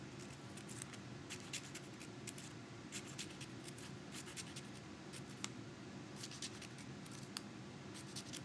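Scissors snip strips into a photo print, leaving a border intact; a quiet, steady run of short crisp cuts repeats over a low background hum, with no talking.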